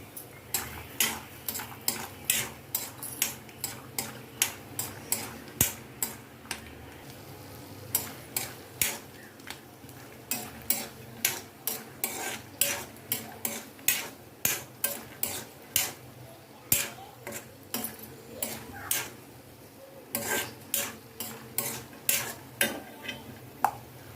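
Peanuts roast in a pan, stirred steadily with a spoon. Repeated sharp scraping and clinking strokes come in an irregular rhythm over a faint background, fairly close and alone, with no talk.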